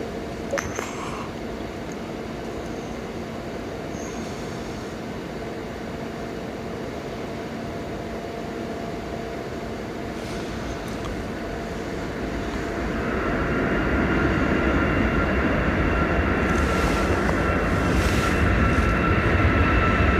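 A 26-year-old United Boeing 757 at Dublin airport makes a broad, steady jet roar. It holds at a distance, then swells louder and rougher over the last several seconds.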